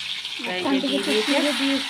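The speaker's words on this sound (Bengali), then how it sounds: "কড়ার তেল গরম হয়ে গেছে পটলগুলো ভাজবে এবার" Whole pointed gourds (potol) sizzle and crackle as they fry in hot oil in a wok, a steady, close hiss with a voice speaking over it.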